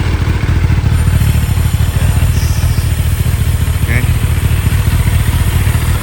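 A Kawasaki ZX-10R sport bike with an aftermarket racing exhaust runs loudly and steadily up close, a deep continuous engine rumble filling the whole stretch with no clear revving.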